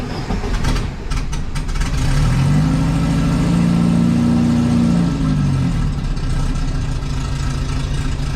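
A turbocharged Volkswagen Beetle engine catches after a cranking start and settles into a steady, loud idle with a smooth, even rumble, running close by with no voices over it.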